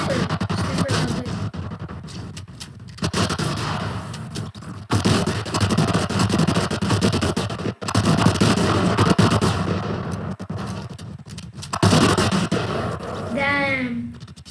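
Bursts of gunfire crackle through a battle royale video game match, with repeated shots and scattered explosive booms while players talk excitedly over the action.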